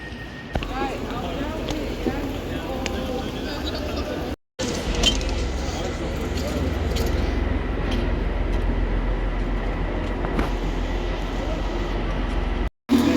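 An Avanti West Coast train rumbles steadily into a station platform, with clanking and rattling of carriages and background commotion on the platform.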